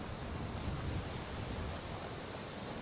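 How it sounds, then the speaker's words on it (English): Steady rain in the video game Skyrim, a continuous soft hiss of falling drops with a low rumble underneath, even and unbroken, with no voices. "Sure, it's raining now"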